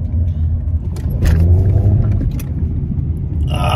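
A car pulls out onto a highway, heard from inside as a loud, steady low engine and road rumble with brief knocks and shifts. No voices are heard.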